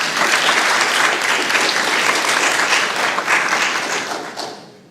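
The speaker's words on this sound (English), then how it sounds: "So please, let's give them a round of applause." Audience gives a sustained round of applause for school public-speaking club members at a TED-Ed event, a dense, loud wash of many hands clapping that holds steady before tapering off at the end.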